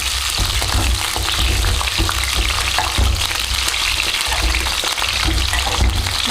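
Brinjal frying in hot oil for a gravy, a loud steady sizzle with frequent sharp spluttering pops throughout, close and continuous with no talk.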